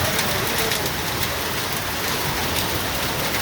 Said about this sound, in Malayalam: ഇവിടെ തകർത്ത് ആലിപ്പഴം വീഴുകയാണ്